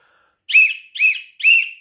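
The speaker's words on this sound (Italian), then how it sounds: "Fischiamo, triplice fischio." A football referee's triple whistle signals the end of a match: three sharp, shrill blasts of roughly equal length, evenly spaced and loud, with no voices.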